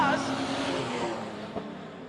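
Speedway race cars in a six-cylinder class at Hobart Speedway roar around the dirt track, a sustained engine drone running under a commentator's continuous talk.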